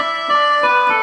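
A brief sustained reedy chord from an SV800 keyboard imitating a khaen mouth organ, steady and fairly loud.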